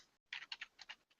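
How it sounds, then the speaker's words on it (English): Quick bursts of computer keyboard typing, several close key clicks in short uneven clusters with brief pauses, quiet and alone. "I'm typing slow today"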